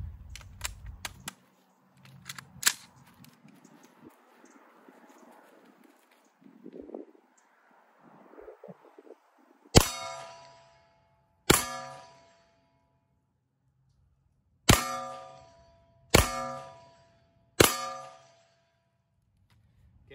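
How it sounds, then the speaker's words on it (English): Five gunshots from a pistol-caliber carbine fired at a steel target from about 8 yards, each a sharp loud crack with a ringing metallic clang, spaced roughly two seconds apart after quieter handling noises. "That was 5 rounds out of the PCC."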